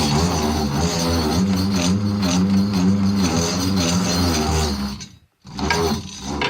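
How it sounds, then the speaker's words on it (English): A DC light bulb run on AC current gives a steady, loud, rough grinding buzz with a mechanical rattle, cutting out briefly near the end before resuming. "with that DC bulb running on an AC current, it just really grinds"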